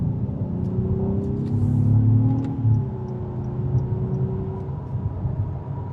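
An Acura MDX A-Spec SH-AWD pulls out of a corner, its engine giving a steady, moderately loud droning hum with a gently rising and falling pitch, heard from inside the cabin without speech.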